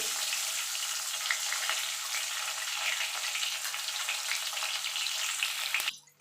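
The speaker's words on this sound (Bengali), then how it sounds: "এবার মাছগুলোকে আমি ভেজে নেব আমি দুবারে মাছগুলো ভাজবো" Bhetki fish pieces fry in hot oil with a loud, dense, steady sizzle close up, which drops away abruptly just before the end.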